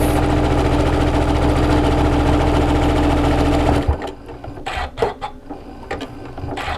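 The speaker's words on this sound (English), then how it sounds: "We're going to do a zigzag stitch here, whereas we've been doing a straight stitch on the rest." A sewing machine runs a zigzag stitch along the elastic of a homemade face mask, a loud fast steady whirring for nearly four seconds, then it stops and fabric rustles and clicks follow.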